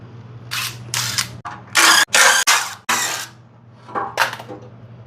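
A ratchet wrench works on a car's sway bar during subframe work, giving several loud bursts of rapid clicking separated by short pauses, close and otherwise quiet over a low background hum.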